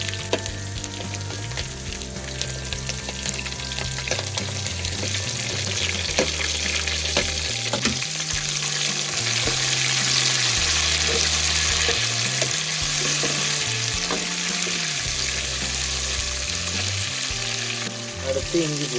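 Onions and tomato sauté in oil with curry leaves in a pan, village style, for a fish curry: a loud, dense, continuous frying hiss with frequent stirring scrapes over a background of tonal music.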